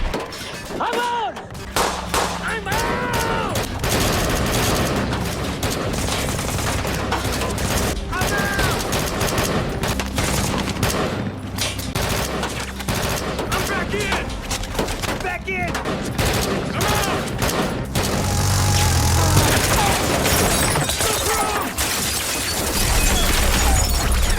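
Bursts of rapid gunfire crackle throughout, with scattered shots and explosions beneath shouting voices in a chaotic battle scene from a Malaysian war film.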